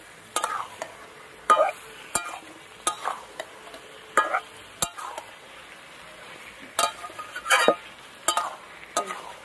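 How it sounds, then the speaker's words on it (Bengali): A spoon stirs and scrapes chicken curry with new potatoes in a pan, giving repeated sharp clinks and scrapes in an uneven rhythm over a soft, steady sizzle, close and fairly loud, with no talking. "সব কিছু দিয়ে এবার ভালো করে কষিয়ে নেব।"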